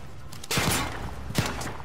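Gunfire from the video game Call of Duty: Modern Warfare comes as two short, sharp bursts of rapid shots at moderate loudness.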